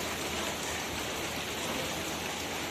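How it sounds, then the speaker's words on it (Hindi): Heavy rain pours steadily, a dense, loud, even hiss of falling water with no pauses and no voices. "आज बारिश हो रही है बढ़िया वाली"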